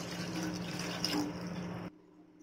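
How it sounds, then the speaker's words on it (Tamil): Water is poured into a cooking pot as a steady splashing stream, fairly close, which stops abruptly near the end and leaves quiet. "இந்த மாதிரி ஒரு பாத்திரம் எடுத்துகிட்டு அதில் 2 கிளாஸ் தண்ணி சேர்த்துக்கலாம்."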